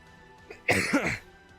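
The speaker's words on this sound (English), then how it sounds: "Still coughing." A single harsh cough burst from one person, close and fairly loud, preceded by a faint breath and followed by quiet.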